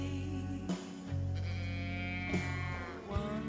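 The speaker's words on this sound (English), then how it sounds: "Cow in a can." A cow-in-a-can toy in the video game Tell Me Why gives a drawn-out, wavering moo-like bleat, loud and alone against a steady game ambience.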